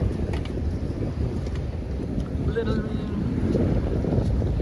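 Wind buffets the microphone over a steady rush of water as a sailboat moves, with the hull slapping through a ferry's choppy wake, and a faint voice now and then.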